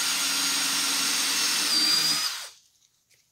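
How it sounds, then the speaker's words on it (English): Power drill pre-drilling holes into a metal stud for a radius Lazy Susan form, a loud steady whine that runs for about two and a half seconds and then stops abruptly, leaving near silence. "I just drill in."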